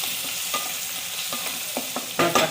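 Green chilli and mint leaves frying in hot oil in a pan for mushroom dum biryani, a steady close crackling sizzle with a few louder spattering bursts and stirring scrapes toward the end, no voices.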